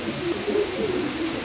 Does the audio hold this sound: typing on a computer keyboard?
no